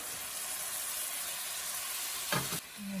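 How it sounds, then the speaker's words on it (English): Tomato puree hits a hot pan of ginger, garlic and jalapenos for a salmon chutney, giving a steady close broadband sizzle with a brief louder hiss burst near the end as the puree lands. "I'm adding the tomato puree."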